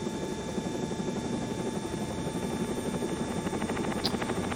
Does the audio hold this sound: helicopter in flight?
yes